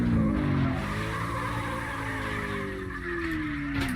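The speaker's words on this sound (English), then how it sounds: "So I'm just using the handbrake to just lock the wheel up and have it lose traction." A truck in the CarX Drift Racing game drifts with the handbrake locking the wheels, giving a sustained tire skid and screech over a droning engine, loud and continuous, with no voices.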